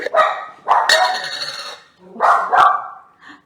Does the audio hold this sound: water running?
no